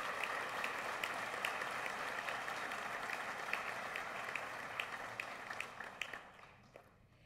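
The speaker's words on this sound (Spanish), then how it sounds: "Fuerte el aplauso" Audience applause at a solemn university ceremony marking the 75th anniversary of the University of Costa Rica, a dense, steady crowd clapping that holds for several seconds and then fades away at the end.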